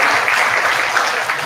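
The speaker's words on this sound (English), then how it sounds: "Could we give them a round of applause?" A round of applause at the official opening of a community centre, dense steady clapping from a gathered audience, loud and close, filling the whole short moment.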